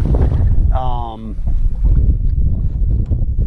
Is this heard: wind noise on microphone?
yes